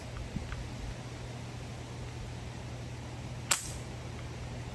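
A multi-pump air rifle fires once at a backyard target, giving a single faint, sharp crack over a steady outdoor hiss.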